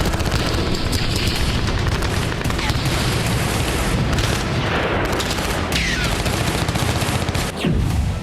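Heavy gunfire in combat near Koreneve in Kursk, a dense, continuous roar of overlapping rifle and machine-gun bursts with booming blasts, loud and relentless throughout.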